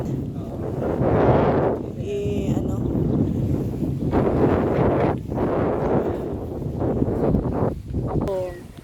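Strong wind roars and buffets the microphone in gusts throughout, with people talking over it.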